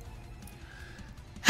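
A single sharp sneeze bursts out at the very end, loud and close, after a near-silent room.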